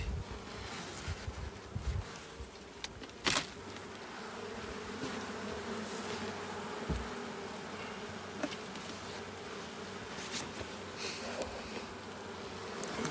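Honey bees in a nuc hive make a dense, continuous buzzing hum heard up close, with occasional bumps and rustles of handling outdoors.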